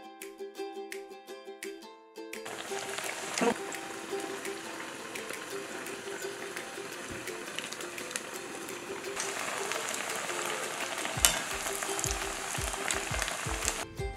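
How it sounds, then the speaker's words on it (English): Food frying in a pan on low heat gives a steady, soft sizzle and crackle that starts after a short pause and runs continuously, with occasional stirring clinks and a voice speaking quietly in the background. "then we can continue frying."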